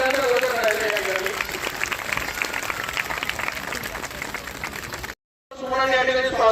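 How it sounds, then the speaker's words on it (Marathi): Crowd of women at a welcome ceremony for a self-help group funding event in Nandurbar clapping loudly in a steady roar, with a voice speaking over it, a brief cutout near the end, then clapping and talk resuming. "जोरदार टाळ्यांचा गजर करायचा या ठिकाणी."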